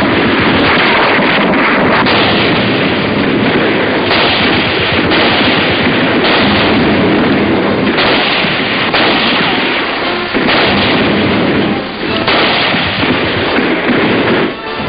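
Gunfire from sniping in the rubble-strewn streets of Cherbourg in 1944, heard as a dense, continuous barrage of sharp cracks and bursts with wind rumble, loud and close throughout with no pauses.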